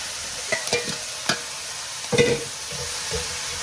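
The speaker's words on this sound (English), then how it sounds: "So now in the same wok, I will add the mushroom and onion." Mushroom and onion hit a hot wok for a chili chicken stir fry: a bright sizzle broken by a few quick, close spatula scrapes and tosses in a short burst.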